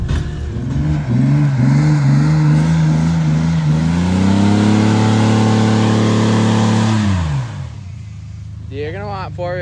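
A Ford Ranger's engine revs hard in four-wheel drive while churning through mud, rising and falling in pitch then holding a steady roar before cutting off, with a voice briefly heard near the end.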